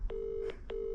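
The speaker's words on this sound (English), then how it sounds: "Up at the Tufts, I had an important phone call to make." Mobile phone call tones outdoors on a hilltop: two steady electronic beeps with a short gap between them, loud and close, under light wind noise and no talking.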